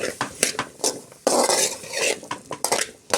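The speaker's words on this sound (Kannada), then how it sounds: "ಈ ರೀತಿ ಮಾಡಿ ಇಟ್ಕೊಂಡಿದ್ದಂಥ ಆಲೂಗೆಡ್ಡೆ ಹಾಕ್ಕೊಳ್ತಾ ಇದ್ದೀನಿ. ಹಾಕ್ಕೊಂಡು ಒಮ್ಮೆ ಚೆನ್ನಾಗಿ ಫ್ರೈ ಮಾಡ್ಕೊಳ್ಳೋಣ." Potatoes going into a hot oiled pan for stir-frying with masala: uneven metal spatula clanks and scrapes against the pan over a light sizzle, close and irregular, with bursts of louder stirring and no speech.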